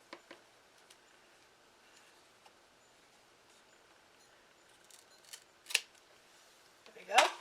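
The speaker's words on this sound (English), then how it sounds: "I think actually I'll cut it off as close as I can" Scissors snipping off a tag close to the fabric while making Easter napkin rings, heard as a couple of sharp close cuts near the end after quiet rustling.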